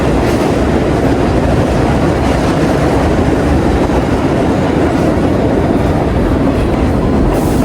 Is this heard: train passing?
yes